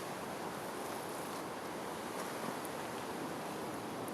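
Wind blows on a wet, windy autumn day in a garden: a steady, soft broadband rush with no gusts standing out and no voices.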